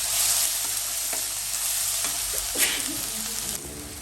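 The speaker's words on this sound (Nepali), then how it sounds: "मैले यसमा बेसार र नुन राखेर एकछिन चलाउँछु" Dried fish curry with turmeric and salt sizzling in a pan while being stirred, a steady loud frying hiss with occasional scraping knocks from the spoon.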